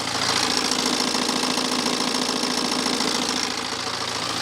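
A BMW 520d diesel engine running steadily with a suspected worn timing chain, heard up close as a loud, even clattering idle with a rapid knocking texture throughout and no voices.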